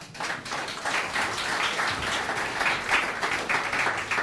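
Steady applause from an audience at a startup pitch event in London, a continuous dense patter of many hands clapping at moderate volume for the full stretch.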